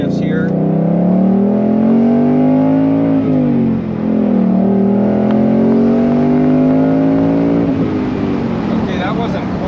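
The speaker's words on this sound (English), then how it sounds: "roll through a few gear shifts here." Manual-transmission 2021-22 Ford Mustang GT convertible engine revving hard, rising in pitch through each gear, dropping briefly at the shifts and climbing again, loud and close from inside the car.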